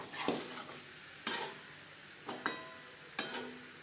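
Potatoes and pointed gourd stirred with spices in a pan over a high-to-medium flame, heard as a soft steady sizzle broken by a few scraping spoon strokes against the pan, close and fairly quiet.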